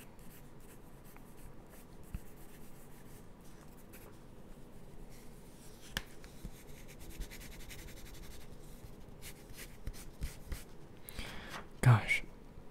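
Pencil drawing a portrait on paper in quiet close-up, soft continuous scratchy strokes with occasional whispered talk and a louder rustle near the end.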